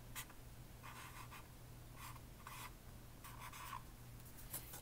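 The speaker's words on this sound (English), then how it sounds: "Now I want you to write the word tape." A pencil writes the word "tape" on paper in a quiet room, giving soft scratchy strokes in several short bursts with brief pauses between letters and no talking.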